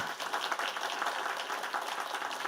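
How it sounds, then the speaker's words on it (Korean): Church congregation applauding during a Sunday service ordination celebration, a continuous wash of many hands clapping, even and unbroken, heard at moderate distance with no talking over it. "큰 박수로 축하해 주시기 바랍니다"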